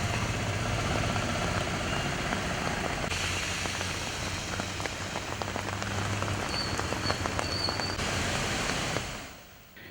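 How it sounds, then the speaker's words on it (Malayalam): Summer rain pours steadily over Thiruvananthapuram city in the late afternoon, a dense continuous hiss of drops on surfaces, with a low engine hum from passing traffic beneath it before the sound fades at the end. "വൈകിട്ട് 4 മണിയോടെയാണ് തിരുവനന്തപുരം നഗരത്തിന്റെ വിവിധ ഭാഗങ്ങളിൽ ഒറ്റപ്പെട്ട മഴ പെയ്തത്."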